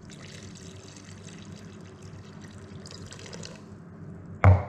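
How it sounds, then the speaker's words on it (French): Water pours steadily into a large saucepan of sugar, a soft continuous trickle close by that stops with a brief knock near the end. "Et dans ce sucre je vais rajouter 250 g d'eau."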